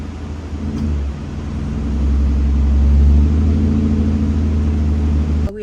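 A 2017 ninth-generation Honda Accord with its muffler deleted drones steadily while driving, its low exhaust rumble building in the middle before easing, with a short sharp click near the end.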